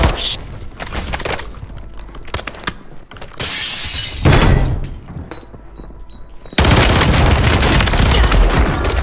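Gunfire and crashing impacts in Call of Duty: Modern Warfare Resurgence match, loud bursts of shots with clattering, shattering debris and a sustained dense volley at the end.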